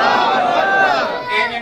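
A large crowd at a Mehfil-e-Milad religious gathering shouting in unison in response to a Takbir call, a loud, swelling chorus of many voices lasting just over a second before tailing off.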